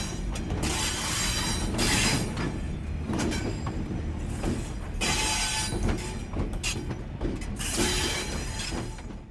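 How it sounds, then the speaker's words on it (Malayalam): A passenger train pulls away from Ottakkal station on the Kollam to Sengottai line, with steady, close rolling rumble and periodic bursts of metallic wheel and coupling clatter throughout. "അങ്ങനെ ഒറ്റക്കല്ലിൽ നിന്നും വണ്ടി നീങ്ങി തുടങ്ങി"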